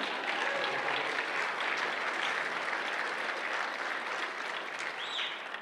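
Steady, dense applause from an indoor audience at an awards evening, loud and continuous throughout with no talking over it.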